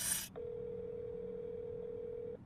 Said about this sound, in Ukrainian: Я ще раз дзвоню